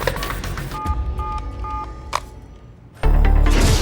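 A telephone number is dialed in a tense TV drama scene: a short run of evenly spaced electronic keypad tones mid-clip, set against a busy background, followed by a sudden loud burst of sound.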